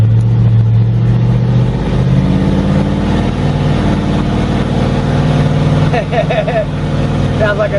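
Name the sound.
Land Rover engine revving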